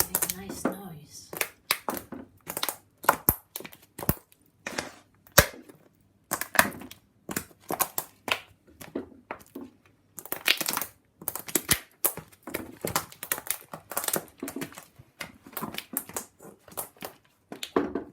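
Hazelnut shells crushed underfoot with stone or hard soles: a dense run of sharp, close cracks and crunches in irregular bursts, with quiet pauses between.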